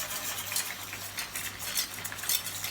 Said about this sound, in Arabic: بضل بقلب فيهم لحد ما يرجعوا يغلوا مره ثانيه ويذوب الماجي.